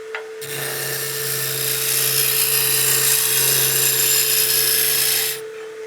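Kiln-dried maple spins on a wood lathe as a tool cuts the blank for a baseball bat, giving a loud, steady scraping whir over a constant motor hum that starts abruptly and stops after about five seconds.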